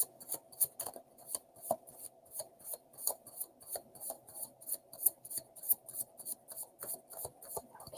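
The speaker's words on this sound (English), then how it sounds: "Edgar Allan Poe shuffles very nicely, too." Tarot cards from an Edgar Allan Poe themed deck being shuffled by hand, giving a steady run of crisp riffling snaps and soft papery rubs, close up and fairly quiet, with no talking.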